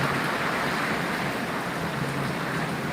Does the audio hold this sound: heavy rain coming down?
yes